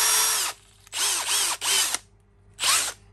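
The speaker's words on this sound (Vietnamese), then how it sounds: "một cái máy khoan ba chức năng hãng Milwaukee, mã của nó là 2902" A Milwaukee 2902 three-function cordless hammer drill, brushless, runs in four loud bursts of whirring motor, each with a rising and falling pitch, separated by short pauses.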